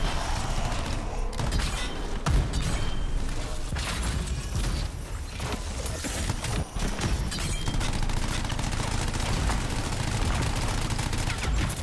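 Dense, continuous gunfire and mechanical clatter from the Anthem video game, rapid overlapping shots at a loud, sustained level with no talk over it.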